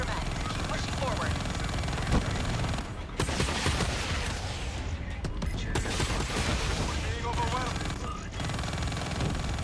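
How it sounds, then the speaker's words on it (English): Dense gunfire in the Call of Duty Black Ops 3 campaign, with bursts of shots and heavy combat noise running continuously and loudly under the game's layered battle sounds. "Oh, I'm shooting at them."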